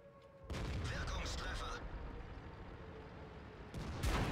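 World of Tanks artillery fire: a sudden loud, broad blast lands in a tank battle and rumbles on for several seconds, and a second heavy impact follows near the end.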